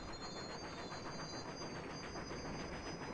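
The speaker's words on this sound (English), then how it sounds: "Have fun around here while the train arrives." A train in Blood: Fresh Supply rumbles steadily as it arrives, with a continuous dense clatter and a faint high whine running alone over the whole stretch.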